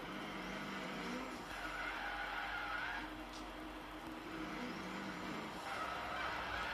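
A drag car in the racing game Forza Horizon 3 drives with a continuous engine drone and tire noise, rising and falling in pitch, steady and moderately loud with no talk over it.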